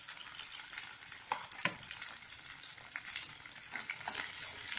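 Onion, ginger and garlic fry together in a pan over a medium flame for an Indian dum aloo curry, giving a steady, close sizzle with occasional sharper crackles and pops and no talking.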